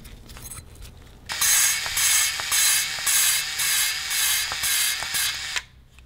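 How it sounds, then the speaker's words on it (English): A motorcycle engine valve being lapped into its seat with lapping compound: a steady, close grinding rasp that pulses in repeated strokes for about four seconds after a quieter start, then stops abruptly, with no talking. "let me see if I can try to get this valve to seat"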